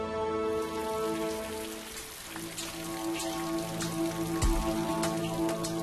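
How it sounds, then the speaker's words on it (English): Steady rain falls on surfaces in Puri in the days before the Rath Yatra festival, a dense, even patter with scattered louder drops and no voices. "The blazing heat has given way to rain."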